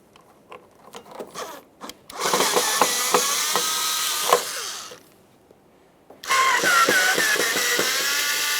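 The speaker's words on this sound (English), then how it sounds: "we have 3 Phillips head screws to remove." A power screwdriver whirs in two sustained bursts, backing out Phillips head screws from the HID ballast control module on a 2007-2013 Acura MDX 3.7L V6, with clicks and handling noises before and between the runs.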